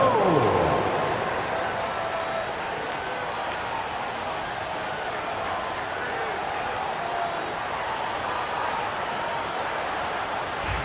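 Simulated arena crowd in an NBA 2K25 basketball game, Bucks at Lakers, cheering steadily for the Laker Girls dance team, a dense continuous roar throughout with commentary-like talk mixed in.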